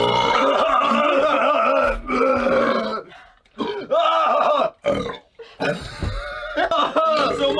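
A young man belches several times in a row, loud and close, long croaky burps separated by short pauses, with grunts and a chuckle in between.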